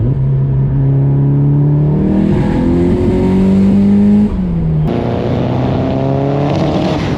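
A Nissan Silvia S15 street car engine revs hard and loud, its pitch climbing steadily, dipping briefly at a gear change, then rising again in a strong, close roar.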